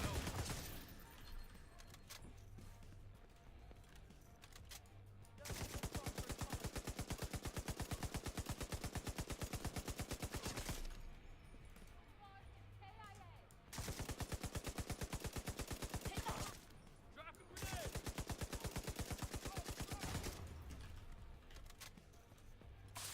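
Light machine gun fire in The Division 2, long sustained bursts of rapid automatic shots separated by short pauses, fairly faint, with game sounds between bursts.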